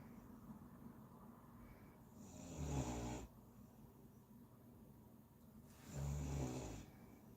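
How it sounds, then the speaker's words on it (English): A sleeping dog snores twice, with slow, rasping breaths a few seconds apart in an otherwise quiet room. "Which is obviously not impressing the dog because he's now snoring."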